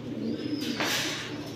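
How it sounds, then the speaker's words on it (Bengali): Cheetah military pigeons, big-headed, large-bodied birds with thick necks, coo softly in a low, steady murmur, with a brief louder rustle partway through and no talking. "বড় মাথার বড় সাইজের বড় গলার কবুতর"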